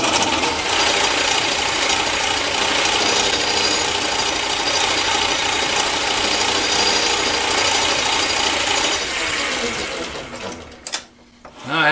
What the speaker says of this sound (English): I'm going to have to hit it with a center drill.